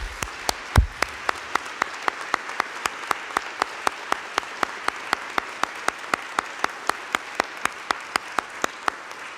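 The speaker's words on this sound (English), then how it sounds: "Let's give them a round of applause." An audience at a law school winter commencement claps steadily, with one sharp, regular clap standing out close by over a continuous wash of applause.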